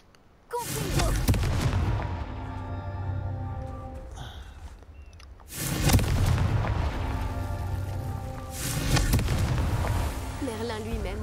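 Booming spell blasts in the Hogwarts Legacy video game during Merlin's trials: a heavy explosion hits early, a second deep rumbling burst follows midway, with game sounds and a voice underneath.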